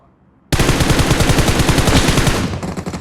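Sustained automatic gunfire in PUBG Mobile played on an emulator, loud and close, starting abruptly after a short quiet lead-in and continuing as a rapid, steady burst with slight fading near the end.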